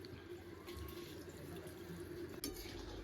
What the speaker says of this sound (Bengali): এখন অল্প পরিমাণ জল দিয়ে দেবো, কারণ কষাতে কষাতেই মাংসটা সেদ্ধ হয়ে গেছে।